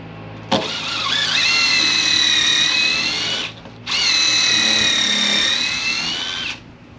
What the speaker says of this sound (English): You want to drill the other one at the same time